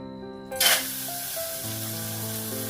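Washed mutton tipped into a hot kadai sets off a loud sizzle that bursts in, then settles into a steady frying hiss over a low hum.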